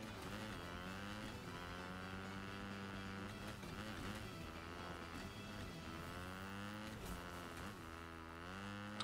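Engine of a bike ridden in the video game Fortnite, a steady droning motor with rising and falling revs as it accelerates and slides, loud and continuous throughout without talk.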